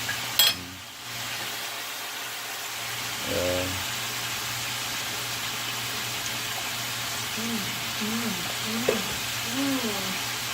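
Tuna fries in a pan, cooked well done on each side, giving a moderate, steady sizzle throughout. A few soft clinks and scrapes land over it, and murmured voices come in briefly toward the end.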